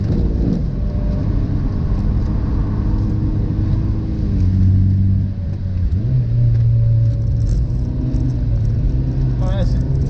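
A Mazda MX-5 NC engine rumbles and revs at moderate speed, between 3,000 and 4,000 rpm while drifting on a track, its pitch swelling and dipping, while someone talks over it throughout.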